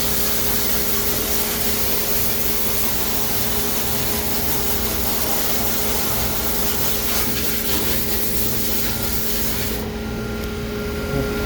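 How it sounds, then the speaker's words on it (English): Compressed air or coolant spray blasting metal chips off a turned aluminum part at a lathe station, a steady loud broadband hiss running throughout with a shift in texture near the end. "there's still some chips down here, so I'm going to spray those"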